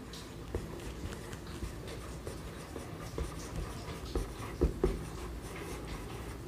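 Handwriting during a geometry lesson, close scratchy strokes of a pen on paper in short irregular bursts with small taps, quiet and without talking.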